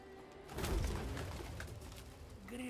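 Pigeons or doves in The Witcher 3: Hearts of Stone give low, soft coos over a steady game ambience across a couple of seconds, fairly close, with no one talking.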